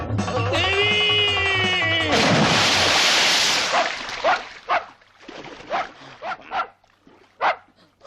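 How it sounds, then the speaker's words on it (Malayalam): A dog barks in a comedy film scene. A loud blast and rushing burst come first, then a series of short, sharp, irregular barks nearby. "പട്ടിയായിരുന്നു."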